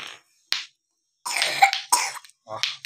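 A person coughs in several short, separate bursts with brief silences between them, close and moderately loud.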